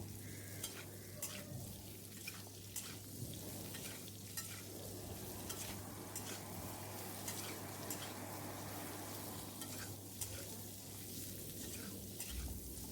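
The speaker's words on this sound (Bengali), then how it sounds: "এবার আমি ওই তেলেই আলু, পেঁপে আর সজনে ডাঁটাগুলো ভেজে নেব।" Potato, papaya and drumstick pieces fry in oil left over from frying aubergine, a steady close sizzle with constant stirring scrapes and light clicks in the pan, fairly quiet overall, no speech.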